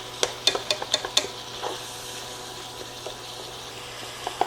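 Ground beef, peppers and onions stirred in a skillet, a quick series of about six sharp spoon scrapes and clinks at the start, then softer stirring over a low steady sizzle.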